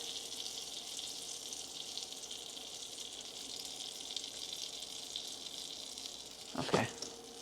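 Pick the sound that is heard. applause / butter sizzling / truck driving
butter sizzling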